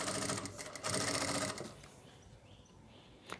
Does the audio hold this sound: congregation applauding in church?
no